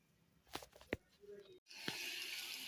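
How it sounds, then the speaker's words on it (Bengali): Water from a kitchen tap runs over food being washed in a sink, with a few clattering knocks first, then a steady, quiet gush of running water. "এখন এগুলোকে ধুয়ে উঠিয়ে নেব"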